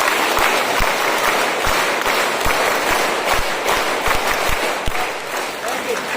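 Applause from a school audience honoring the mother of Licypriya Kangujam at RK Sanatombi School, a steady dense wash of clapping held at an even, fairly loud level throughout.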